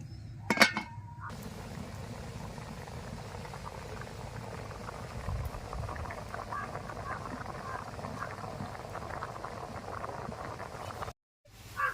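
Chana dal boils in a covered pot with a steady bubbling patter and a faint rattle, preceded by a few sharp metallic clinks at the start, then briefly cut off before a final clink near the end.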